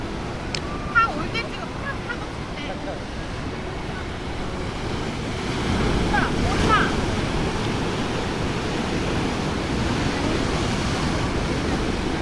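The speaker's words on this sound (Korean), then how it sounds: "파도가 장난이 아닙니다" Waves rush and break onto the East Sea shore at Sokcho, South Korea, steadily, with wind buffeting the microphone and a brief voice early on.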